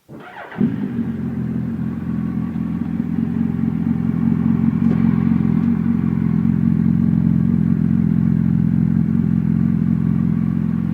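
Suzuki B-King motorcycle fitted with a Leo Vince exhaust starts up close by and settles into a steady, loud, throbbing idle that runs unbroken, with no talk.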